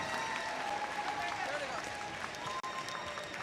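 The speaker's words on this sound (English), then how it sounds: "Everyone, please give them a huge round of applause." An audience at a 2025 robotics district qualifier event applauds the finals alliances, a steady spread of clapping at moderate distance with a faint voice over a sound system and a brief dropout near the end.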